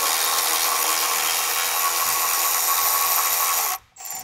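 A power tool runs out a 10mm bolt near the dipstick tube on a Ford 6.7L Power Stroke diesel, giving a steady, loud, close whirring buzz that holds for nearly four seconds and then cuts off abruptly.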